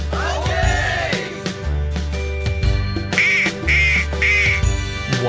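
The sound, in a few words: duck quacking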